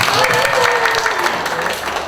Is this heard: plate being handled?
no